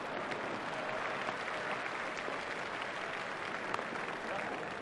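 Sustained crowd applause and cheering after a shot in the EA Sports Cricket 2002 PC game, India versus Australia, a steady dense roar of clapping filling the whole moment, with commentary voices underneath.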